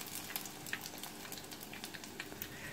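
Chicken nuggets deep-frying in a bath of oil over medium heat give a steady, dense crackle and sizzle with frequent small pops, close by and fairly quiet.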